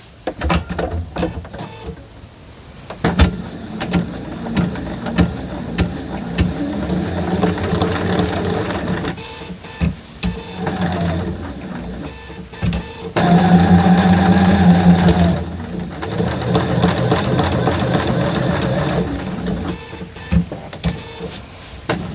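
A sewing machine stitches a baby bath apron, its motor whirring in a steady mechanical run with uneven stops and restarts, rising to a louder, steadier stretch partway through.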